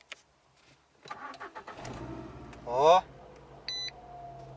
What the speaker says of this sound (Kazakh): Достар, көрейік, қозғалтқыш от ала ма, алмай ма,